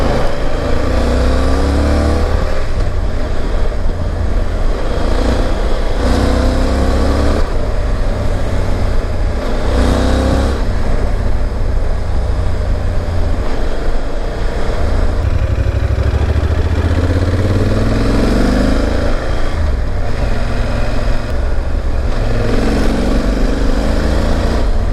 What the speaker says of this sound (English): I'm in 5th gear and the bike pulls strong.